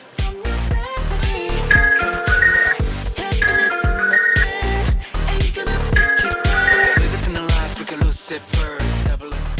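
A phone call rings out with a melodic ringtone, its bright tune repeating loud and close over the whole stretch without talk.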